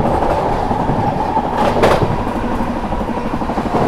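The Prayagraj–New Delhi Humsafar Express overtakes at speed, heard from on board as a loud, steady rolling rumble with rhythmic clickety-clack of the wheels and a brief whoosh midway.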